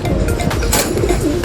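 Racing pigeons arriving at a loft after training from Catanauan, Quezon give soft cooing and rustling under steady outdoor background noise.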